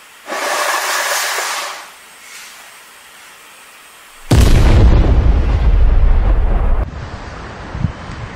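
A blast at an oil terminal in a port: after a gusty wind rumble, a sudden loud boom erupts into sustained heavy roaring, continuing at full volume to the end.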